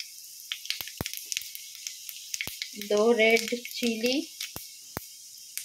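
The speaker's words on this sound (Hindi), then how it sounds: "अब इसे अच्छी तरह से चटकने देते" Cumin and fennel seeds crackle in a spoonful of hot oil in a kadhai, with sparse sharp pops and faint sizzling, while a voice speaks briefly.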